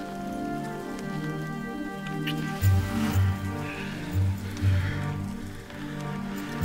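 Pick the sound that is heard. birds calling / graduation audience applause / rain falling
rain falling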